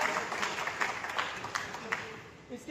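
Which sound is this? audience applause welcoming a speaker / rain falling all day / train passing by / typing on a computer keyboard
audience applause welcoming a speaker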